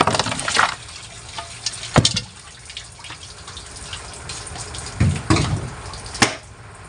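Running tap water pours steadily with a few louder splashes and gushes as something is rinsed under the stream, no voices.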